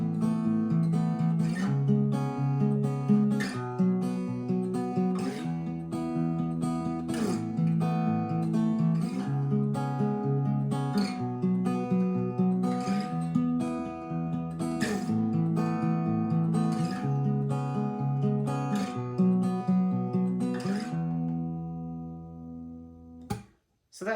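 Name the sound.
guitar playing intro of a song at regular speed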